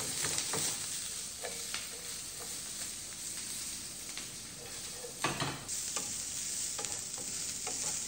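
Fish frying in hot oil for a Bengali bele fish dopeyaja garnish, a steady close sizzle with scattered crackles and spatter pops, plus a sharper burst near the middle, no talking.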